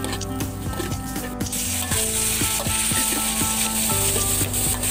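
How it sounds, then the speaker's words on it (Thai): Pork sizzles steadily in hot oil in a pan, a loud continuous crackle with regular scraping strokes of a stirring utensil, and no talk. "รอน้ำมันร้อนใส่หมูลงไป"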